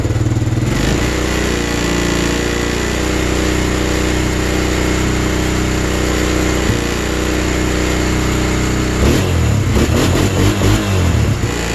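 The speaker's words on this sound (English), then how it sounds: "and then we'll rev it up" A 1999 Arctic Cat 300 4x4 ATV engine with an electrical bogging fault runs loud and close. It holds a steady idle before the revs climb near the end into a rougher, surging roar.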